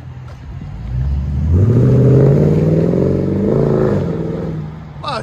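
A Toyota Tundra engine revs through a big aftermarket muffler, one loud, deep, throaty rev climbing in pitch, holding briefly, then settling back to idle, close by.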